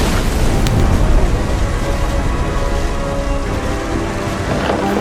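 Heavy rain pours continuously beneath a deep, rolling thunder rumble, loud and close throughout, a thunderstorm effect in the video game What Remains of Edith Finch.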